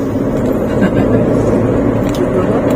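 Dense, steady road noise from cars and trucks on a crowded Malang–Sidoarjo toll road in East Java, a continuous close rumble with tire hiss and no distinct passing vehicle.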